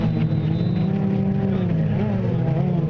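A bright yellow number 13 pro watercross snowmobile races across water on the pro course, its engine a steady loud drone with rising and falling pitch, close and constant.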